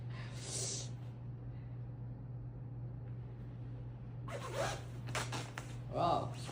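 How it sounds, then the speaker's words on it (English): A zipper on clothing is pulled, with one quick zip at the start and then a burst of several rasping strokes near the end, close by over a low steady hum. "Could you zip up and see?"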